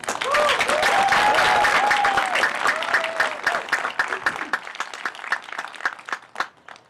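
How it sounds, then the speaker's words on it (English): Commencement-ceremony applause for a graduating college class: dense clapping from a crowd that stays full for about three seconds, then thins into scattered individual claps and fades out. Faint voices and whoops run through the opening. "Let's please give our class a round of applause."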